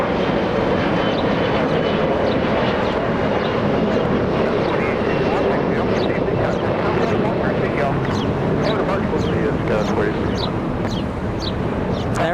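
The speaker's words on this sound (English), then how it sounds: "There goes the SkyWest Embraer E175 lifting off on 25 right" A SkyWest Embraer E175 jet lifting off runway 25 right at Los Angeles International Airport, a loud, continuous engine roar with wind buffeting, a voice talking over it.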